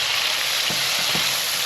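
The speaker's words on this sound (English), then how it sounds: "I'm going to let these vegetables saute" Vegetables sautéing in a hot pan, a loud steady sizzle filling the space with a few faint clicks of movement, no voices.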